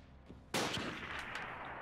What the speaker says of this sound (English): Is that the actual sniper that I hear?